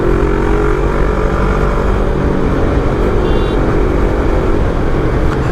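Yamaha R3 motorcycle with a flash-tuned ECU revving past 7,000 rpm under light throttle, a steady, loud, continuous engine drone with no break across the whole stretch.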